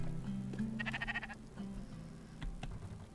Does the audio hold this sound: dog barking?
no